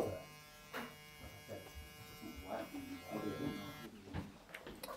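Electric hair clippers buzz in short bursts while cutting clipper-over-comb on a man's hair, running close and steady under intermittent talking.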